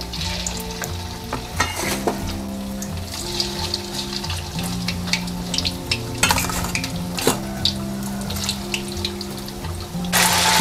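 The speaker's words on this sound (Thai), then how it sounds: "น้ำมันร้อนค่ะให้ใส่ไก่ลงทอดเลยค่ะ" Chicken pieces frying in hot oil in a pan, a loud continuous sizzle and crackle with occasional clatter and scraping of utensils against the pan, no talking.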